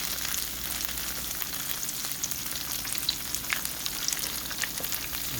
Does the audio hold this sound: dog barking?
no